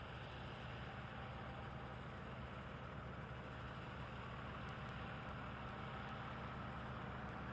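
Oliver 7800 combine shelling the last rows of corn at a Half Century of Progress farm show, a steady low engine rumble and machinery drone, faint and distant, unbroken for the whole stretch.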